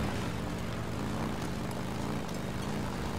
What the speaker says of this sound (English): Where's this helicopter going towards?